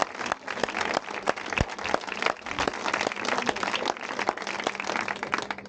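An audience claps for the catering team at an evening event, a steady dense patter of hands from a medium-sized crowd, moderately near and sustained throughout.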